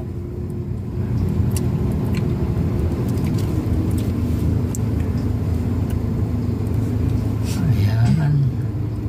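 A car bogged down on a deeply muddy road hums with a steady, continuous engine rumble for several seconds, close and fairly loud, with voices talking over it.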